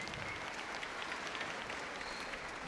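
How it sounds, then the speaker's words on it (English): An audience at a city-wide band festival claps steadily throughout, a dense, even patter of applause without pauses, heard at some distance and fairly soft. "give them a round of applause for all the hard work"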